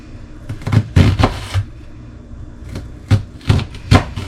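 Several sharp knife strikes on a cutting board, rough chopping vegetables for tomato sauce, landing in short uneven bursts with pauses between them, close and fairly loud.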